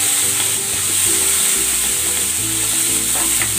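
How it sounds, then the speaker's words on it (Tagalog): Tomato sautéing with onion in a pan gives a steady hissing sizzle with occasional stirring, while background music plays continuously beneath it. "Igigisa ko na rin tong kamatis."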